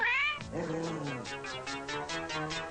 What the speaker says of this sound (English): Now that people know meow is a request for Meow Mix, what's next?